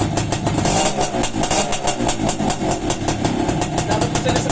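A Suzuki X4 motorcycle with a stock exhaust idles close by, its engine putting out a loud, steady, rapid pulsing throb with a slight rise and fall in revs and no one talking over it.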